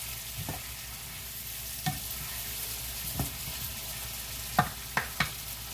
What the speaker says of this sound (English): we're just going to let those just saute